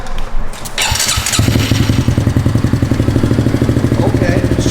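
A motorcycle fitted with an aftermarket exhaust starts after a brief crank, then settles into a loud, close, steady rhythmic idle with even low pulses.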